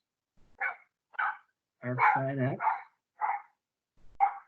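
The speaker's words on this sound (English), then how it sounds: "Sorry for the barking dog." A dog barks in short, separate yaps with one longer run of yelping barks in the middle, fairly close and alone, while someone briefly speaks at the start.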